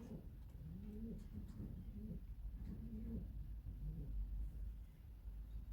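Young racing pigeons coo in a UK loft with soft, repeated throaty phrases close by, over a low rumbling background.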